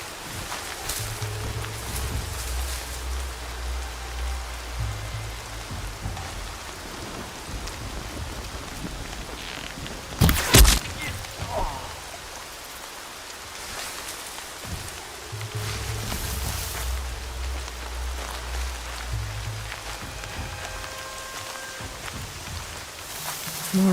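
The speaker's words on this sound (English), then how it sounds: "More rain. My boots will get damp." Steady rain falls continuously around a listener, a broad hiss of drops on surfaces with low rumbling underneath and a brief sharper crack midway, with no voices.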